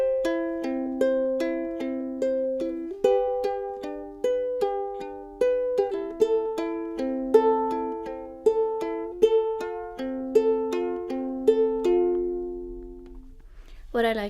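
A ukulele plays a slow fingerpicking pattern through all of the chords, with evenly spaced plucked notes that ring and decay in a steady, repeating rhythm. The playing is clear and close, with no talking.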